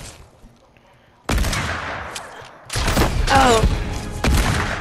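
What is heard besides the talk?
gunfire in the video game Fortnite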